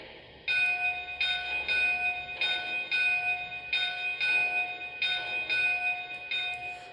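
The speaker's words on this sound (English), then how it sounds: "kind of simulates a real bell swinging" A hand-rung steam locomotive bell rings repeatedly in a slightly uneven rhythm, about once every second, each strike bright and ringing, close and clear with little else around it.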